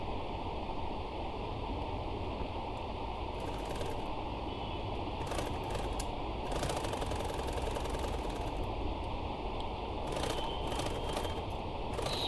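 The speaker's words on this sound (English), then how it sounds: "Now next we are going to take the main fabric and we are going to stitch all around." Sewing machine stitching all around the main fabric of a small coin pouch, a steady mechanical whir running continuously throughout at close range with brief faster bursts, no talking.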